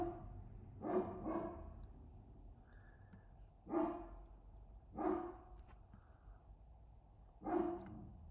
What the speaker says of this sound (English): there go my dogs again